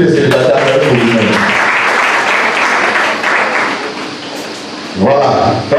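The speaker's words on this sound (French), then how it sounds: "Acclamez pour vous-même, tous les célibataires, acclamez pour vous-même." An audience at a French-language talk applauds in a steady, loud burst of clapping lasting several seconds, with a speaker's voice over it at the start and again as it fades.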